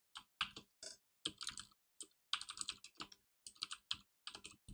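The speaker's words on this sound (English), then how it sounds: "I'm typing this out so no one can steal it as I'm saying it out loud" Rapid typing on a computer keyboard, bursts of crisp key clicks in quick clusters separated by short pauses, close and quiet with no talk.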